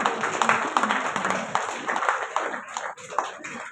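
Applause at an award ceremony, with the audience clapping in a dense, uneven patter that thins toward the end while voices murmur underneath.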